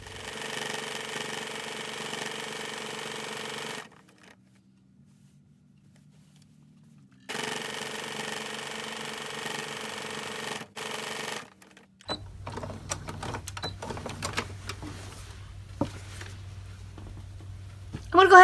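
A sewing machine stitches through a quilt in steady humming runs that stop and start, with a quiet gap in the middle, followed by a stretch of talking over low background noise.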